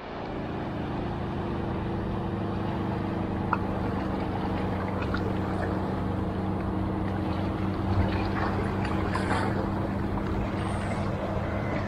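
A motorboat engine hums steadily across the water at moderate distance, a constant droning tone with light wind noise around it.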